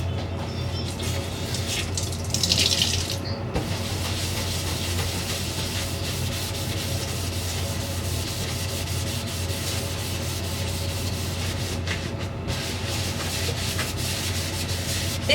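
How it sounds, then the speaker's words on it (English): Steady rubbing and scrubbing of a surface being cleaned at home in the evening, a continuous close scouring with brief pauses and no talk. "I'm going to give this a little scrub down"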